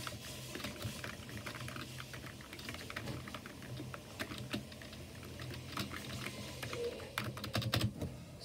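Fingers type on a new computer keyboard, producing quick irregular bursts of clicky keystrokes close by over a soft background hiss, with a slightly louder flurry near the end.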